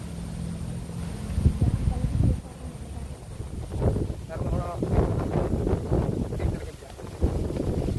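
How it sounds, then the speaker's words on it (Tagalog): Very strong typhoon wind buffets the microphone in loud, continuous rumbling gusts during a storm outdoors, with someone talking over it in bursts. "Grabe lakas ang hangin."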